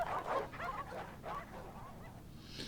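Hounds in a visual novel game give a string of yips and whimpering barks, fairly close and moderately loud, fading toward the end.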